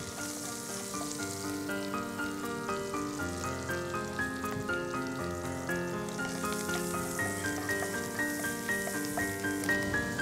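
Mushrooms frying in a pan of oil and butter, giving a dense continuous sizzle and crackle over a musical backing that plays throughout.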